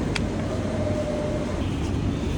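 Steady low rumble of a stopped train interior in the UK, a continuous muffled hum and faint rattles with no voices, quiet and even throughout.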